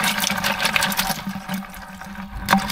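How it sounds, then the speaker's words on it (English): Water boiling in a Jetboil Genesis camp stove pot gives a close, steady bubbling and rushing hiss with small sputters, heard alone without speech. "And the water's on the boil."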